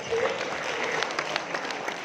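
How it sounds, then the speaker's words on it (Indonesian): Audience applause at a book launch event for Anies Baswedan, a short burst of steady crowd clapping with a faint voice under it. "Tepuk tangan buat Pak Anies."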